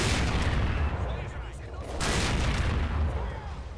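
Mortar fire in the Men of War: Assault Squad 2 game, Croatian Legion mod, as a dense, continuous wash of distant explosions and battle noise that swells and fades, with a speaking voice mixed into the din.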